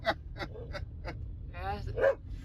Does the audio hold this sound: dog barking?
yes